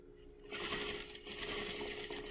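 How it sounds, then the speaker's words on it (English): A sewing machine starts up and runs a quick, continuous whir of stitches around a fabric face mask. It is close and steady, with no talking over it. "I'm going to stitch a few stitches and then do a back stitch"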